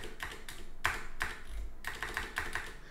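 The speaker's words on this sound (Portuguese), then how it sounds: "eu estou apertando Enter" Someone types on a computer keyboard and presses the Enter key, producing a run of crisp, moderately quiet key clicks in an irregular rhythm, some in quick bursts, with no talking.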